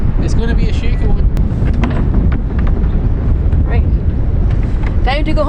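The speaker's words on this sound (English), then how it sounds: "the wind has turned, and yeah, it's getting quite windy." Loud, constant wind buffeting the microphone with a deep rumble in Ireland, continuing throughout with occasional faint voices underneath.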